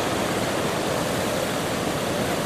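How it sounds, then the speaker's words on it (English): Heavy sea waves breaking at a river mouth, a dense continuous roar of surf and rushing water, loud and steady with no distinct individual crashes. "At the mouth of the river today, we can see we have a heavy sea running again."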